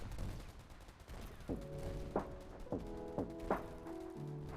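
Artillery fire in the game Calyx: a series of about six sharp, moderately loud blasts at roughly half-second to one-second intervals, each leaving a sustained tonal ring, over a steady low background.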